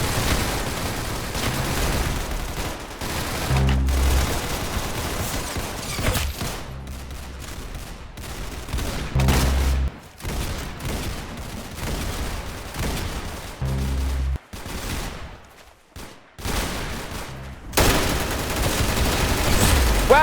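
Video game shooter gunfire rattles in dense, loud bursts of automatic fire broken by short pauses and a few heavy booming shots, with the volleys restarting repeatedly and running close and continuous.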